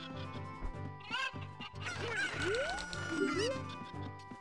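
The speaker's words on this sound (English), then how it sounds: "There's so many cuckoos." Cucco chickens in Zelda: Ocarina of Time clucking and squawking in a busy flock, with rising and falling calls layered over looping game music.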